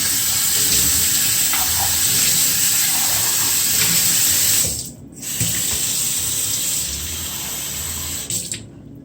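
Water runs steadily from a tap with a loud, hissing splash, briefly cutting off once and then flowing again.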